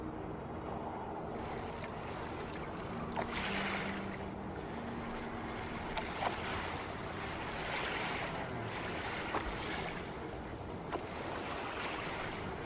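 A sailing boat glides across open water in the video game Make Sail, with steady wind and wave wash rushing continuously and a few faint creaks and taps scattered over the constant bed.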